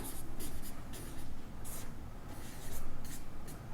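Pen scratching across paper while a maths solution on polynomials is written out, quick rhythmic strokes in bursts, close and clear with no talk.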